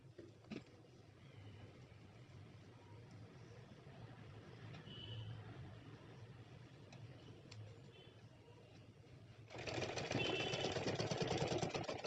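A sewing machine runs through steady stitching along a fold in nighty fabric, a low continuous hum throughout that grows suddenly louder and busier over the last couple of seconds.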